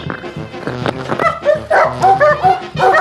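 A Serbian defence dog barks and yelps in quick, loud, close bursts, its voice rising and falling in an excited, uneven rhythm.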